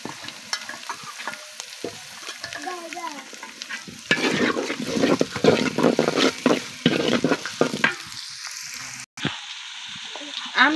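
Carrots fry with onion and chilli in a pan for vegetable fried rice, a close crackling sizzle that swells louder midway, broken by stirring clatter and a brief moment of silence.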